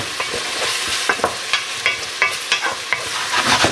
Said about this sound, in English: right now we're just sweating down a little onion and bacon